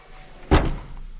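The rear hatch of a 2024 Ford Escape ST Line swings shut with one solid, close thump, followed by a brief low resonance.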